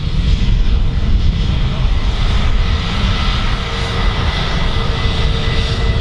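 An Airbus A320neo airliner taxiing at Manchester Airport gives off a loud, steady engine roar and whine, close and continuous throughout.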